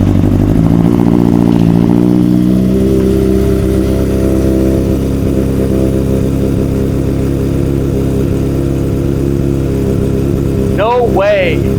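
A 2007 Honda CBR600RR track bike, rebuilt after a wreck, fires up and settles into a steady close idle in neutral, with a brief rising rev at the start and a voice cutting in near the end.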